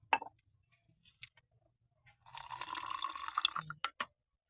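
Water poured into a glass for coffee makes a steady splashing, filling trickle lasting about a second and a half, preceded by a few small clinks and followed by a couple of taps, close and alone.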